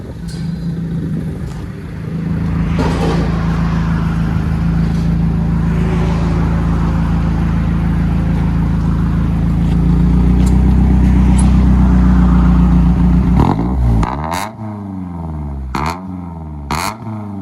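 1991 Toyota MR2 2.0 turbo engine with a resonator exhaust idling with a steady rumble, then several sharp revs near the end, climbing and falling quickly in close succession.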